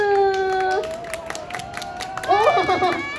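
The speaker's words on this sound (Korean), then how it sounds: "박수!" An audience claps and cheers at a street busking performance in Sinchon, a burst of applause and crowd noise rising near the end, after a voice rings out over it earlier.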